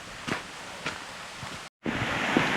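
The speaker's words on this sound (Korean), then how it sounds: "그저께 비가 좀 와서 그런지 물소리가 훨씬 더 우렁찹니다." Steady broadband rush of a mountain stream in Seoraksan's Cheonbuldong Valley, swollen after rain, fills the clip, with a few soft footsteps and a brief dropout before the rushing resumes louder.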